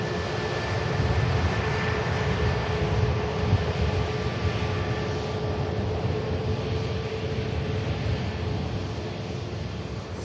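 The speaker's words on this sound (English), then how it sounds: "EasyJet on the return leg from Amsterdam." An EasyJet airliner returning from Amsterdam to Manchester Airport, a steady loud broadband engine roar that holds for ten seconds with a faint tonal whine.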